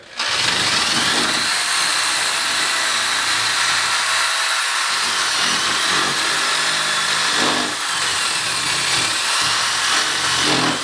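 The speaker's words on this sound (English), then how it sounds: "I'm just using a drill bit here." A power drill runs steadily and loudly for several seconds, its motor droning with a grinding edge as it bores into wood, with brief dips in pitch.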